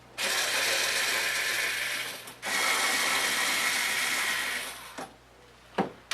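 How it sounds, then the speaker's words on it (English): Screws backed out of the cover at the meter end of an SEC battery charger with a ratcheting driver, two long steady whirring runs followed by a few short clicks and taps, close up with no speech. "We're going to remove the 4 screws at the meter end."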